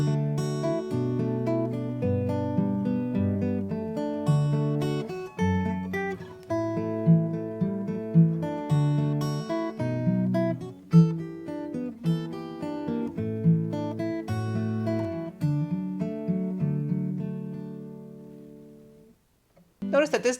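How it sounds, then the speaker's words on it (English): Fingerstyle solo guitar arrangement where steady eighth-note chord fillers sit between melody and bass notes, played alone at a moderate level for about twenty seconds before fading to a brief pause. "every eighth note that is not part of the melody or bass is just going to be a filler from the chord we chose in the last"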